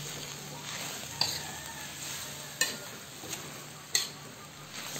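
Soy sauce being stirred into sprouted mung beans with pork in a hot pan: a steady sizzle with scraping, and a few sharp clinks of the utensil against the pan.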